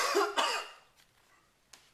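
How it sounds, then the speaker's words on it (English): Two harsh, close coughs in quick succession, then quiet with a faint tap near the end. "Sorry about the cough I have."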